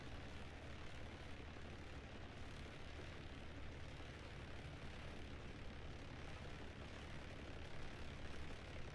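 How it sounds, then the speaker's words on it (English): Propeller engine drone of a Piper airplane in Microsoft Flight Simulator 2020, a steady, loud, unbroken rumble that stays level throughout with no voices over it. "just pull off on the side here and shut our airplane down."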